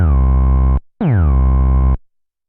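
Synthesizer bass patch played twice, each note sliding in pitch as a modulation envelope bends it, a short gap between the two loud, buzzy tones, then silence.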